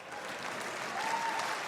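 Audience applause at a Lewis Black stand-up comedy show, a steady wash of clapping at moderate volume, fairly distant, sustained with no one talking over it.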